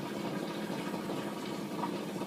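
Alcohol fuel poured in a thin, steady trickle into a soda-can camp stove, a faint, even liquid stream running nearby without a break.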